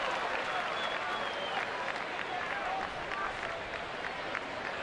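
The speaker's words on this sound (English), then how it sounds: "Sarcastic round of applause." A baseball crowd at Fenway Park gives a sarcastic round of applause on a misty evening as a Red Sox pitcher throws a strike, with distant, steady clapping and crowd murmur spread over the whole stadium.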